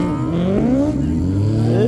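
Suzuki Hayabusa drag bike screaming at high revs as its rear tire spins at the launch, a loud continuous rising engine wail close by, with crowd or commentary noise underneath.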